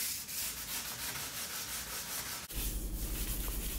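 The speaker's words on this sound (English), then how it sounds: "So I'm just continuing to sand here" Hand sanding of a wooden table with 120 grit sandpaper, a steady rhythmic scratchy rubbing of back-and-forth strokes, close and continuous with no talking.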